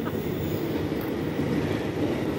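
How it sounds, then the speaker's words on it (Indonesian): The Manahan passenger train enters a station with a low, steady rumble of wheels and rolling stock, continuous and fairly close, with faint rail noise and no talk. "Ini kereta api Manahan mau masuk teman-teman tapi terhalang KRL"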